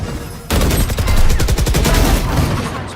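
Rapid automatic gunfire in the first-person shooter Valorant bursts in loud and close after a brief lull, a dense rattling stream of shots that carries on without break to the end.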